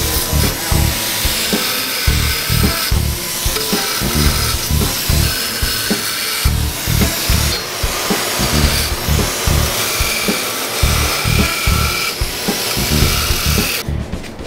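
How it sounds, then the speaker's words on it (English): A hand sander grinds bevels onto steel edges ahead of welding on a custom Honda Helix scooter build, a loud continuous gritty whine that rises and falls with pressure over about fourteen seconds. "we're gonna bevel this right here with a hand sander"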